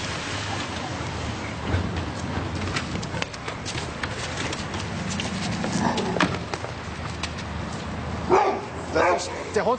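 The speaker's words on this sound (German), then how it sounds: "Der Hund von Herrn Hanusch?" A dog belonging to a neighbour barks and yips in short bursts indoors, under continuous conversation between several people.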